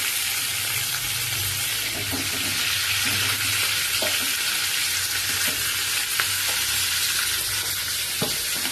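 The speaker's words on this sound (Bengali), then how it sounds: "এই মাছ ভাজলে শঙ্কর মাছ বেশি তেল লাগে না এর থেকে আরও তেল বেরোচ্ছে" Shankar (stingray) fish fries in oil with a steady, dense sizzle and crackle that stays close and loud throughout, broken only by a few faint utensil taps.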